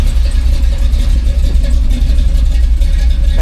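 A Jeep XJ engine idles steadily after a carburetor idle adjustment, a loud close low rumble with an even pulsing beat, alone without speech.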